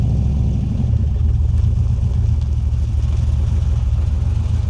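LS-swapped BMW Z3 V8 engine running on a drive, a loud, steady low rumble close by, with a slight rise in revs and no voices over it.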